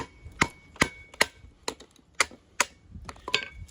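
A knife being batoned through gnarly, tough wood, several sharp woody cracks of the blade being struck, spaced roughly every half second, close and crisp.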